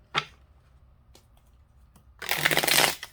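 Tarot cards are shuffled by hand. A short riffle opens, a few light taps follow, and a longer, louder burst of shuffling comes near the end.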